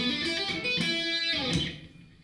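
A short guitar phrase in Dorian pentatonic, notes ringing with clear harmonics and resolving onto a sustained E root that fades out at the end, played alone with no talking.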